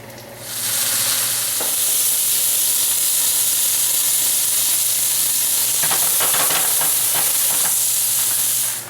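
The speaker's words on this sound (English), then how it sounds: "how do you cook a T-bone steak in a pan?" A T-bone steak sizzles hard in a hot pan, a loud, continuous frying hiss that holds steady throughout with a few faint crackles and pops.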